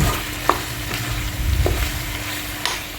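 Chettinad chicken chukka is stirred in a hot pan with curry leaves and coriander, a close, continuous sizzle with soft scraping strokes and a few light taps of the spoon.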